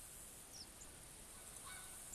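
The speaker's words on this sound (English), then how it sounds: "I still hear geese." Distant geese give a few faint honks over steady outdoor background noise during a hunt, the calls sparse and far off.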